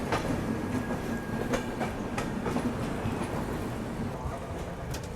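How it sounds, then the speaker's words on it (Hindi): A passenger train rolls into Raipur station while the Durg Express departs alongside, giving a continuous rumble with clickety-clack wheel rhythm and faint metallic squeals, heard from on board at moderate level. "हमारा अराइवल हो रहा है, साथ में यहाँ पे पूरी दुर्ग एक्सप्रेस डिपार्चर ले रही है।"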